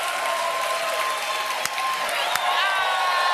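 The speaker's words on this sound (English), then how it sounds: "I like the cheering" A studio audience keeps up steady, loud applause with some cheering, filling the whole short stretch with an even roar of clapping and no clear pauses.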